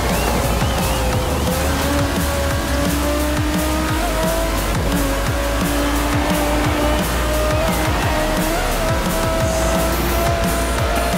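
The Delta Wing race car in Forza Horizon 4 howls through constant engine whine with repeated tire squeals and skids, loud and continuous throughout.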